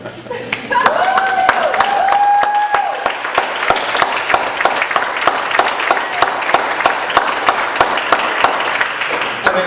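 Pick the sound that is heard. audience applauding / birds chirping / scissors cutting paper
audience applauding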